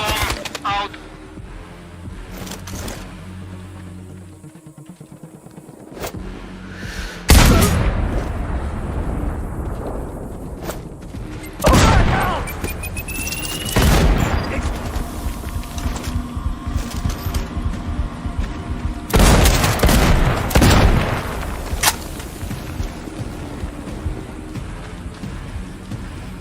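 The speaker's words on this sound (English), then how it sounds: "Base, we have an explosion in Sector 4." Explosions in Sniper Ghost Warrior Contracts 2 go off as several heavy, rumbling booms at irregular intervals, rising out of a hissing, rain-like ambient bed, with no voices.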